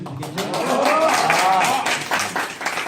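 Sustained applause from the audience at a high school book-club debate final, with dense, continuous clapping mixed with voices for nearly three seconds.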